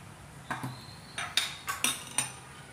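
A spoon stirs chili powder, turmeric, salt and yogurt in a bowl for a Lucknow chicken biryani marinade, clinking against the sides in about half a dozen close, bright taps.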